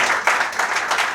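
A brief burst of dense audience clapping at a poetry stage performance, loud and sustained throughout, with no voices over it.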